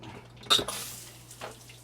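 A tap in a converted Prevost bus is opened to show strong water pressure, giving a sudden rushing gush that settles into a steady, moderate hiss of flowing water with a few brief splashes.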